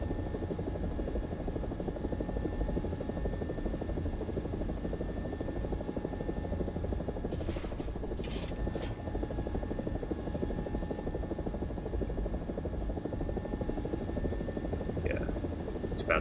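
An AB 205 helicopter in a video game gives a steady, close rotor thrum and engine drone that holds at an even level throughout, with a few brief faint chirps layered on top.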